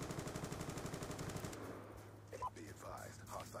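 Rapid automatic gunfire from Black Ops 2 rattles along in a quick even rhythm, then cuts off abruptly partway through, leaving quieter game sounds and scattered movement noise.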